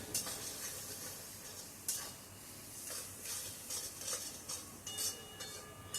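Spice masala with chilli powder sautéing in oil for a dried fish and prawn curry, with a steady sizzle and a spoon repeatedly scraping and stirring against the pan, close and continuous with no talk.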